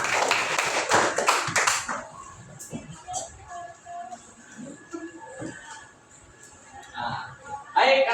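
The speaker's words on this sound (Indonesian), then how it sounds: "Tepuk tangan untuk kelompok 4." Brief burst of classroom clapping for student group 4 during a computational thinking lesson, dense at first then fading within two seconds into quiet room murmur and a teacher's voice.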